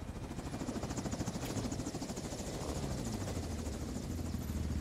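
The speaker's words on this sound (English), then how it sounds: "In the heli on overwatch." A helicopter in the Modern Warfare 2 campaign drones steadily and close, its low rotor chop and engine roar filling the scene alone at a constant, heavy level.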